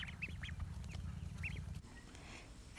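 Ducklings give a few high, thin peeps in short bursts over a low background rumble, faint and close, with quiet stretches between calls.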